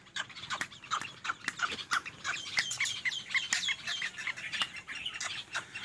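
A caged black francolin (kala teetar) calls repeatedly in a dense, rapid series of sharp, harsh notes, fairly near and loud, with other bird sounds mixed in.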